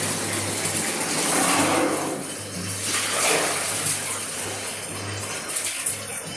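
Water pours out of a bucket in a continuous, close splashing rush that swells and eases slightly over several seconds, with a low steady hum underneath.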